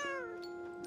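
A cat meows once in the virtual reality game I Am Cat, a single clear, drawn-out mew that slides downward and then holds, fairly faint and heard alone.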